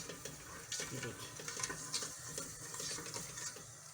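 Chopped onion and fenugreek seeds sizzle steadily in a hot pan, a constant bright crackle with faint stirring scrapes underneath, close and moderately quiet.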